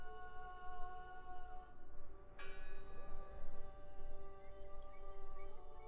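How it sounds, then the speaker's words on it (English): Bell ringing in the video game Draugen: a sharp metallic strike with a long, sustained ringing tone over steady low ambient noise, with faint ticks later; no speech. "Listen! The bell!"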